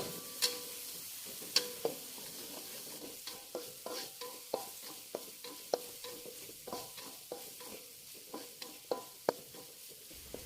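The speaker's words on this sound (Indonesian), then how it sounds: "Tumis bumbunya hingga matang dan harum" Spice paste stir-fried in a wok gives a soft, steady sizzle broken by regular scraping clicks of the utensil, quiet and close, with no voices.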